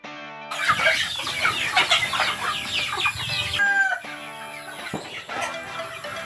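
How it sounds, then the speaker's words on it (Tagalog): Flock of native chickens clucking and cackling close by in a dense overlapping chorus, with a brief shift partway through and more scattered clucks after, over a faint steady background hum; no talking. "ipapakita ko sa inyo ang aking mga native chicken"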